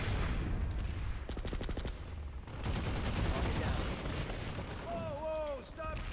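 Rapid gunfire bursts from the PlanetSide 2 video game crackle through the first few seconds, followed by steadier battle noise and whooshing weapon effects, all fairly loud and dense with a voice talking over it.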